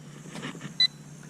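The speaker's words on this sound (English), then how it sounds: "my apologies for the beeping while it was flying" A Syma X20 pocket drone gives one short, sharp electronic beep over a faint background hum.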